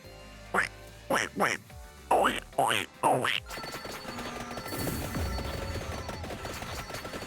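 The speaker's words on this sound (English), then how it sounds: "Space ducks!" Cartoonish space ducks in a vampire survival video game give about five quick, loud quacks, then a dense burst of rapid gunfire-like effects and crashing noise takes over.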